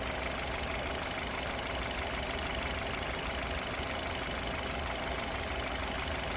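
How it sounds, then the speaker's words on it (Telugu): Hyundai Xcent car engine idling during a carbon cleaning injection treatment, a steady, even, dense running hum with no change in pitch, close and continuous with no voices. "సో ఇంజెక్షన్ మనకి స్టార్ట్ అవ్వగానే ఇంజిన్ నాయిస్ అనేది ఇమ్మీడియట్గా రెడ్యూస్ అయిపోయింది"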